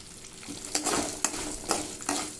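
Onions sautéing in a pan for mint coriander chutney, a steady close sizzle broken by a few sharp scraping stirs of a spatula, with no voices.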